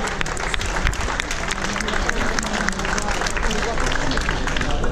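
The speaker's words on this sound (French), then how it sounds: "Et sur la plus haute marche, Amélie Fort, qu'on applaudit très fort." Steady, dense applause from spectators at a cross-country race awards podium, mixed with crowd chatter and scattered voices, loud and continuous throughout.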